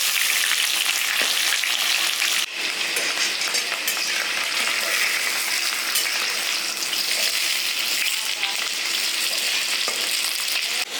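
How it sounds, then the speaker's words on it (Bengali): Mutton fat and potatoes frying in a pan for rewaji goat curry, a steady loud sizzle throughout with occasional metallic clinks of a spatula, no voices. "এই যে চর্বিটা ভেজে দিচ্ছি"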